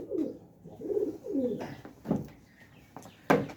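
Several soft, low pigeon coos repeat in a slow rhythm at close range, followed by a few sharper rustling or flapping bursts near the end.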